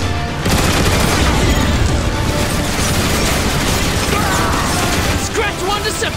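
Gun turrets blast away at Decepticons in the Transformers War for Cybertron video game, a dense run of rapid booming shots and bursts filling the whole stretch.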